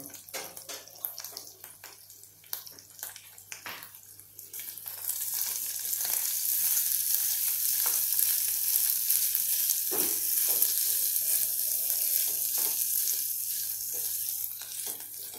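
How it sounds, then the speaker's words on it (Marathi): Sago patty mixture is sautéed in a pan for a fasting recipe: soft scraping and light taps at first, then a steady, close sizzle with occasional stirring clinks. "थोडंसं आपण याला परतून घेऊया"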